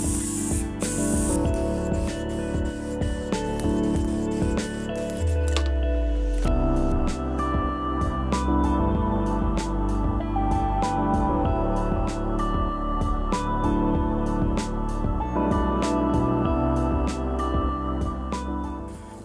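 Sealer sprayed onto wood veneer from a close can in repeated hissing bursts, some short and some drawn out, loud and steady with no talking.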